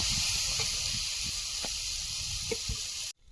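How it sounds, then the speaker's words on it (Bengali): Water poured onto fried potatoes in a pan gives a steady, loud sizzling hiss with a few faint pops and crackles, then cuts off abruptly near the end. "আলু সব ভেজে নিয়েছি এখন জল দিয়ে দেবো"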